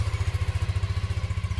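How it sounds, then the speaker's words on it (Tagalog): A small 5-horsepower Yamato diesel engine on a fishing boat runs steadily nearby. It makes a loud, rapid low-pitched chugging pulse with a fast, even rhythm. "diesel engine na maliit lang, 5 horsepower Yamato ang brand niya"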